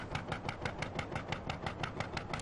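Old Deutz F1 M414 tractor engine from Farming Simulator 13, driving with a steady, even chugging pulse of regular beats across the whole stretch, near and moderately loud with no talk.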